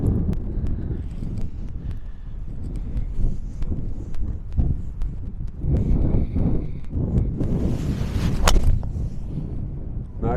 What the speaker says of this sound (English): We're going back into the wind.